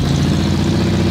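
A chopper motorcycle engine idles nearby, a loud, steady low rumble with an even throbbing texture and no voices over it.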